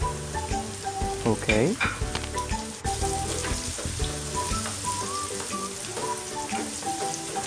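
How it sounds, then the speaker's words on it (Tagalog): Onions sauté in a pan while cooking kare-kare, a dense sizzle with crackles and stirring clatter. Background music plays throughout, and a voice speaks one brief word. "isusunod naman natin ang ating onions or sibuyas. Igisa lang natin sila ng maayos"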